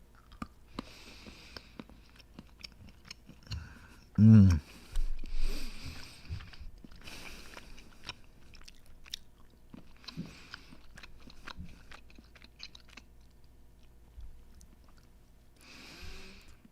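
Someone bites into and chews a piece of mushroom chocolate, with one loud close crunchy bite near the start followed by quieter mouth chewing sounds.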